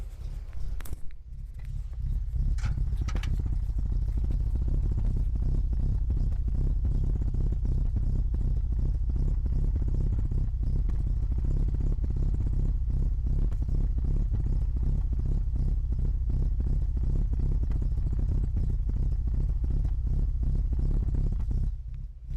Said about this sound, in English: I'll put the mic next to the exhaust.